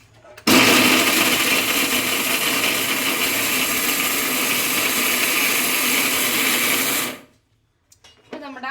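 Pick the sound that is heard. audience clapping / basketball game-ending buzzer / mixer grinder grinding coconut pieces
mixer grinder grinding coconut pieces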